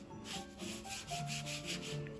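A sponge spreads cyanotype solution across a surface in quick, rhythmic rubbing strokes, a steady close-up scrubbing swish that repeats for about two seconds with no talking.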